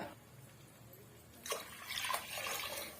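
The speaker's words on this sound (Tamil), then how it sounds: "இப்போ நான் கொஞ்சம் குழைவா வேணுன்றதுனால ரெண்டே கால் கப் அளவுக்கு தண்ணி சேர்த்துக்கிறேன்" Water poured into a pot of ration parboiled rice for cooking, a soft splashing pour that begins partway through and continues steadily, close and moderately loud.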